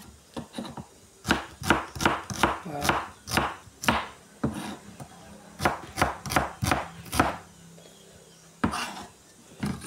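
A knife chops onion and garlic on a cutting board, cooking prep for egg fried rice. It comes as close, crisp runs of rhythmic chopping strokes, broken by short pauses and a single final knock.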